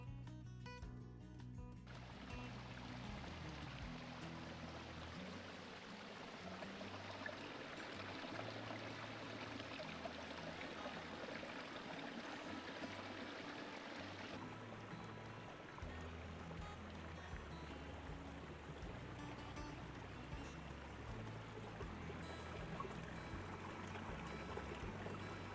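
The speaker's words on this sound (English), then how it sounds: "This stream comes down from Little Haystack." Stream coming down from Little Haystack on the Franconia Ridge trail, a continuous faint rushing and splashing of running water, steady with no voices.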